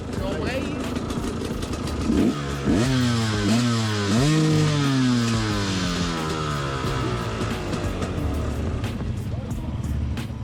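An enduro motorcycle engine revs up hard several times in rising bursts for a sound-level test, then settles to a steady roar close by, with voices faintly underneath.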